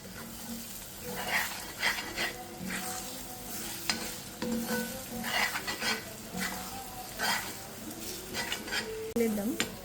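Eggs frying in a pan with coriander powder are stirred with a utensil, making a steady sizzle under repeated scraping strokes, with a dog barking faintly nearby.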